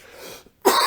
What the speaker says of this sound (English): Now my cough is really starting to come into play here.